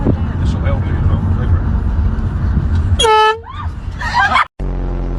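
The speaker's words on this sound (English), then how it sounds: "Honking my dad's horn in a drive-thru." A car horn honks at a drive-thru, one loud blast followed by a second sustained honk, over idling vehicle rumble, with a brief voice between the blasts.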